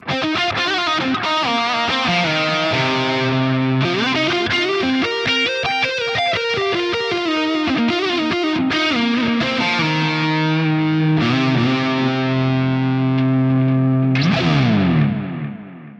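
Heavily effected, high-gain electric guitar lead through the ML Sound Lab Volcano's Wet Liquid Shred preset, with sustained chorused, reverb-washed notes and busy phrases that play loud and continuous, with no talking, ending in a fading swell.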